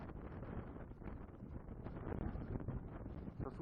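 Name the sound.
blizzard wind on the north face of Mont Ventoux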